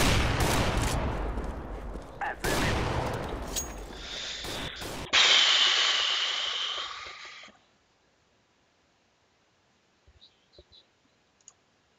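Video game gunfire rattles in dense, loud bursts with sharp clacks. It cuts off abruptly into near silence, broken by a few faint clicks.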